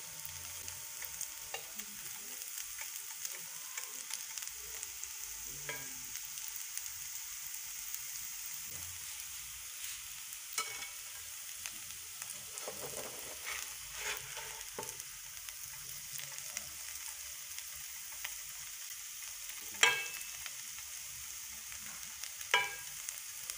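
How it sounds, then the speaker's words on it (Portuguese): Potatoes fry and sizzle steadily in a pan for a potato omelette, with soft scraping and stirring knocks now and then and a couple of sharper clinks near the end. No one speaks. "Voltamos a ver mais as nossas batatas. Já estão bem fritas."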